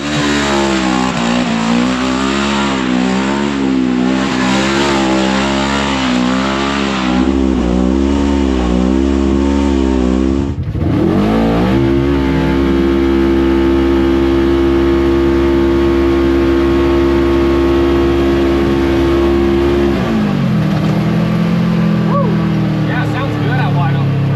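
A 2024 Polaris RZR XP 1000 side-by-side's engine revs up and down through a dual center-exit muffler, deep and throaty, then settles into a steady loud drone before easing off near the end.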